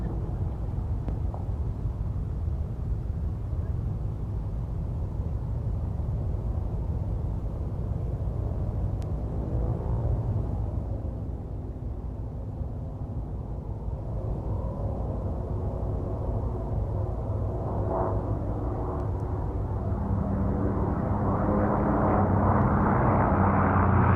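A Grumman FM2 Wildcat warbird pulls up overhead at a VE Day air show, its rattly piston engine a continuous rumbling drone that dips slightly midway, then grows louder and brighter toward the end.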